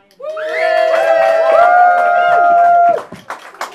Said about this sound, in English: Please give a big round of applause for Vince Laws